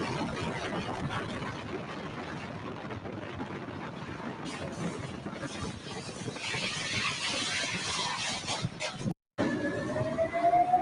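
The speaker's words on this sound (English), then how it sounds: "So that siren, I'm guessing that's this car here" A car's siren rises as a thin wailing tone near the end, after a long stretch of dense rumbling traffic noise. The siren sounds clear but fairly distant.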